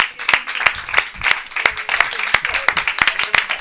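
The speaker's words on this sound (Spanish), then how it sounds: "Robert Martínez, ¡un aplauso!" A few people in a small studio clap in a quick, even rhythm to welcome guest Robert Martínez, with sharp close hand claps repeating steadily for several seconds.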